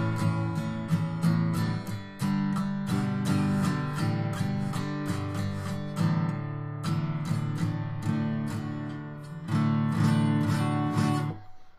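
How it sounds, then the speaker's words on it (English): A beginner strums acoustic guitar chords in uneven bursts, some notes ringing and others choked or buzzy, with brief gaps between strums and no voices. "in the beginning you're trying to play chords"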